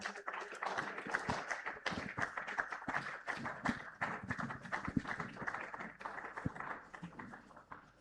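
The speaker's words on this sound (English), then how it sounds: "Please keep clapping if you are not the minister" An audience at a Nigeria-EU business forum claps for the minister, a sustained patter of many hands heard faintly and at a distance from the whole room.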